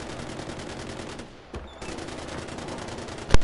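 Dense, rapid automatic machine gun fire in Far Cry 4 rattles on without pause, a continuous burst of shots with a brief lull midway and a sharp crack near the end.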